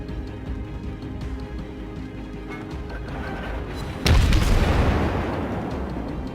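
Naval gunfire and explosions from World of Warships, with battleships exchanging high-explosive salvos; a dense rumbling battle ambience builds, then a loud heavy boom hits partway through and trails into a long rolling decay.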